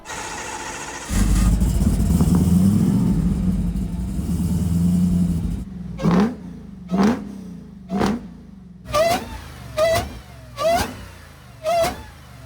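A truck engine starts and rumbles steadily, then is revved in a series of sharp bursts at roughly one-second intervals, loud and close.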